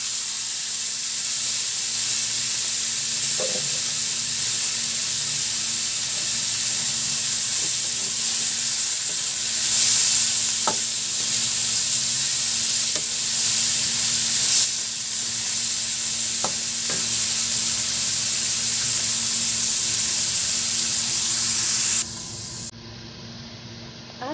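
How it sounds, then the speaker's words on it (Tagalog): Marinated pork for a pork and vegetable stew frying in a pan, a loud, steady sizzle and hiss held close for the whole stretch, with a few faint clinks of stirring, cutting off abruptly near the end. "So, lagay na natin yung ating marinated pork."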